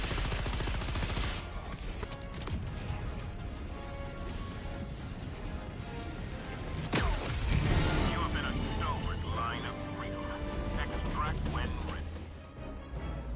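Sustained gunfire from the Stalwart machine gun in the video game Helldivers 2 rattles on continuously, mixed with other game sounds, with voices over parts of it.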